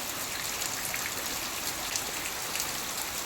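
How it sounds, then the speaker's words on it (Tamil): Heavy rain pours down steadily in Rameswaram, a dense, unbroken hiss of drops spattering on surfaces all around, loud and close with no voices. "எங்கள் ஊர் ராமேஸ்வரத்தில் சரியான மழைங்க"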